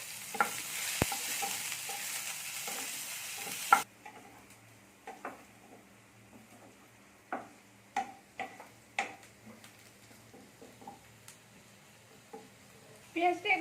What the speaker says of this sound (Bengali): পেঁয়াজটাকে একটু ভাজতে দেবো